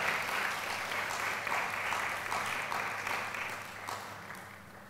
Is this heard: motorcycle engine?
no